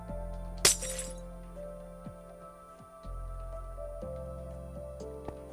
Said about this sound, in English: Glass, so I can break it.